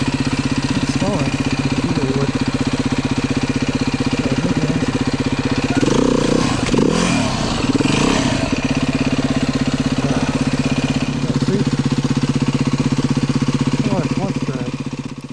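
A Beta 390 RR S four-stroke dirt bike with a dragging clutch idles with a steady loud thump, then sputters and revs unevenly mid-way as it nearly stalls and catches, settling back to idle, with a person speaking over it.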